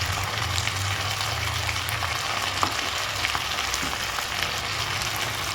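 Ginger-garlic paste with chilli, cumin and coriander powder and salt sizzles steadily in a hot pan, a continuous close frying hiss with faint stirring scrapes and no talk.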